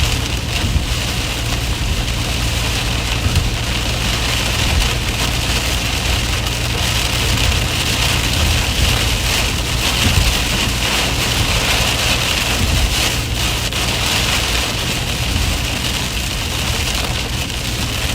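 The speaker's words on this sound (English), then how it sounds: "That was some heavy rain that we just drove through." Heavy rain pounds a car driving through a thunderstorm in Michigan, a dense, loud, unbroken roar of drops and road noise lasting throughout, with no voices.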